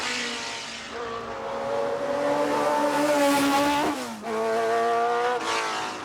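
A racing car makes a timed hill-climb run at the Festival of Speed, its engine screaming close by at high revs, with rising pitch through the gears and a brief drop as it shifts before climbing again.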